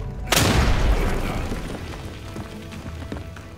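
A single heavy shotgun blast in the World War II shooter Day of Infamy, loud and booming, with a long rumbling tail that fades under scattered distant battle noise.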